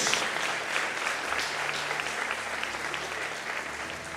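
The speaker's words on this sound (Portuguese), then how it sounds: "Então aplauda ao Senhor e glorifique o seu nome por isso." Congregation in a church applauding the Lord after a sermon, a steady wash of many hands clapping at moderate level for the whole stretch, with faint voices mixed in.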